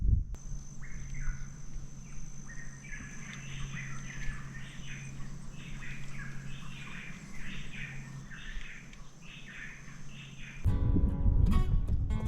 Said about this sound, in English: I don't know if you can hear that, but that is the most bird life we've heard